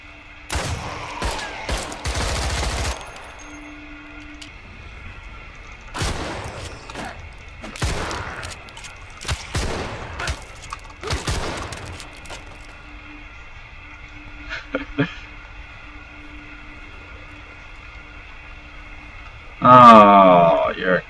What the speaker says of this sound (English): The other one's trying to shoot me.